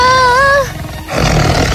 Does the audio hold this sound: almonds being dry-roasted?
no